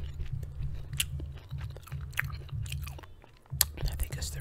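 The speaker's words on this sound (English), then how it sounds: "there's just so much chewing." Close, crunchy chewing of granola clusters with raisins, steady bites and mastication filling the whole stretch, with a brief pause before the crunching resumes loudly.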